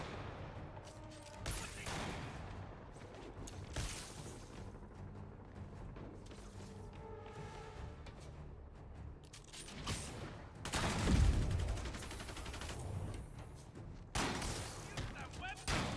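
Sniper rifle gunfire in the Marvel's Spider-Man Remastered video game, with sharp shots and booms scattered through a busy battle mix, under shouting game voices and music.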